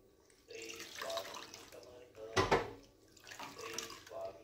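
Paneer is cooled and rinsed in a vessel of cold water while making rasmalai, giving close sloshing and trickling water with one louder splash midway.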